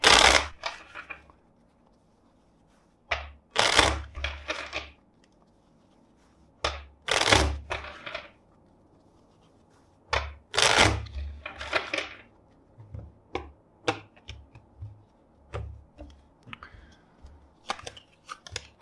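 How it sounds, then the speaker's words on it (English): Bursts of riffling tarot cards, several quick shuffles separated by pauses, crisp and close with a quiet room between them. "let's shuffle the deck four times for you."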